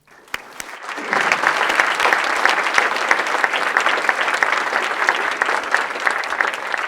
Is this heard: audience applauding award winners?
yes